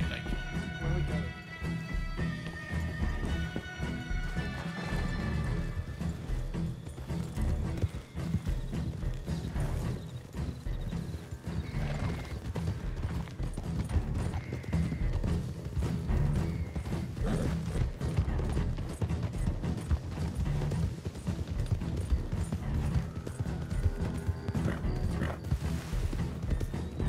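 Horse hooves clip-clopping steadily in Red Dead Redemption 2, with creaking tack, occasional whinnies, and a musical score underneath throughout.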